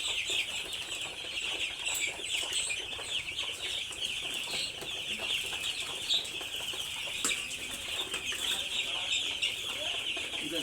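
A flock of chickens clucking steadily on a rainy farm, with occasional wing flaps and a constant hiss of rain underneath, the busy clucks close and continuous throughout.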